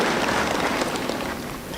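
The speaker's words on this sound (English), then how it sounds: "Let's cheer for them." A ceremony audience at a university graduation applauds and cheers for a new university council, a dense wash of clapping that holds steady and eases slightly at the end.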